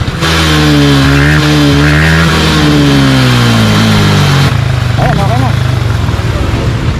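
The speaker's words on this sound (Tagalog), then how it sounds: "buksan mo yung makina tapos paandar mo hanggang 4th gear" A close motorcycle engine revs and holds steady in 4th gear, its pitch sliding down as it runs, with a person talking over it; the bike's chain had been broken.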